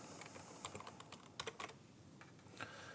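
Keys tapped on a computer keyboard while a title is entered into a financial planning program, a quiet, irregular run of light clicks with a brief faster burst in the middle and a few more strokes near the end.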